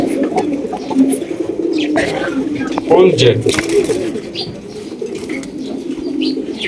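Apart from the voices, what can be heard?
pair of black tail mark pigeons cooing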